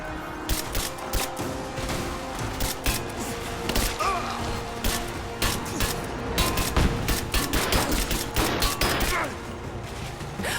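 Dense video-game gunfire in Rise of the Tomb Raider, sustained volleys of rapid shots and impacts, loud and close, with shouted voices mixed into the combat.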